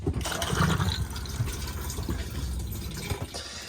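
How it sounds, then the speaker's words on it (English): Flush of a cassette toilet in an Elddis AutoQuest 185 motorhome, steady rushing and gurgling water running without a break at close range. "give it a good flush by again pressing that blue button"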